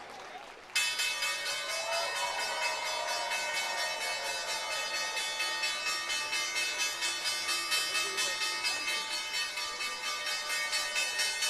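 A stock exchange closing bell on Wall Street rings in rapid, steady repeated strikes after a brief quiet start, continuing loud and unbroken to the end with faint crowd applause beneath.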